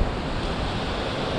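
Ocean waves and a cross-onshore wind at a beach with a decent swell, heard as a dense, continuous roar of surf mixed with buffeting wind, loud and steady, with no voices.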